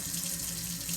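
A kitchen tap runs steadily into a sink while hands are washed during home banana bread baking, a close, continuous splashing rush with no talking.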